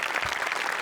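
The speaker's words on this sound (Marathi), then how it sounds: "मोठे आणि भूषण शेलार दोघांसाठी प्रचंड टाळ्या." A studio audience at a Marathi comedy show claps loudly and continuously in a dense burst of applause, brief and close.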